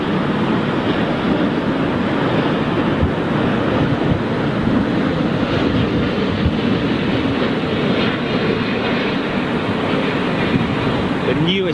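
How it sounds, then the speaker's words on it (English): Gusty wind at Heathrow Airport roars steadily into the microphone throughout, a dense, unbroken rush with no pauses between gusts. "Still quite blustery up here at the moment, not as much as it was earlier on"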